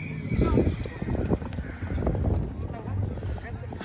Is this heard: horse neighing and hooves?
yes